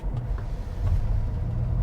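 2021 Ford Mustang Mach-E Select electric car pulling away hard from a stop, a steady low road rumble and hum building slightly in loudness as it gathers speed, heard from inside the cabin with no talking.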